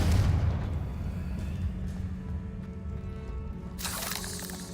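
A Confringo spell explosion in Hogwarts Legacy opens with a deep, booming blast that rumbles and fades, followed by a brief bright crackle near the end, with no voices.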